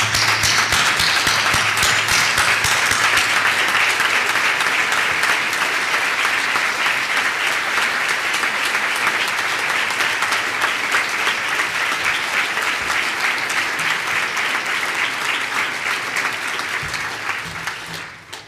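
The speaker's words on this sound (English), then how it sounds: "Yes, let's have a round of applause." Sustained applause at a graduation dinner, a thick, steady roar of many hands that holds for a long stretch before tapering off at the end.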